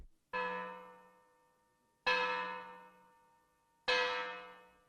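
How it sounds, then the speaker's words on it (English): A deep church bell struck three times at slow, even intervals, each ring loud and clear, then fading with a long shimmering decay. "Sikes and Fagin heard the church bell."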